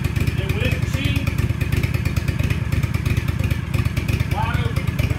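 The engine of an Aztec Refresher floor machine warms up, chugging in a steady, even rhythm with rapid firing pulses that hold constant the whole time, loud and close, with a faint voice in the background.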